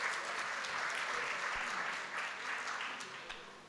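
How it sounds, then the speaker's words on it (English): Sustained audience applause for a band at a book launch event, a dense steady wash of many hands clapping that fades slightly toward the end, with no talking over it. "Another round of applause for our band."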